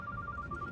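A mobile phone rings with a short, repeating electronic tone, faint and steady over a low background hum, with no voices.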